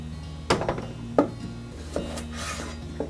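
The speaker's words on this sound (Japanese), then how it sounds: "ジャガイモを念入りに洗って皮ごと使います" Potatoes scrubbed and rinsed under running water in a home kitchen in rural Kyushu, Japan, giving a few sharp rubbing knocks over a steady wash of water, close and alone with no voices.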